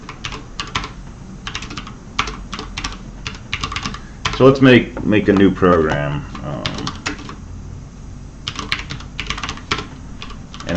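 Rapid clicking keystrokes on a computer keyboard come in bursts and stop briefly while someone speaks near the middle, then the typing resumes.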